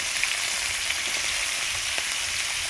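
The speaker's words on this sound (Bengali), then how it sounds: "তেল খুব ভালোভাবে গরম হয়ে গেছে, ওর মধ্যে আমি আলুর টুকরোগুলো দিয়ে দিচ্ছি।" Small cut potato pieces fry in well-heated oil, giving a steady, dense sizzle with fine crackling pops that stays even throughout, close up and without voices.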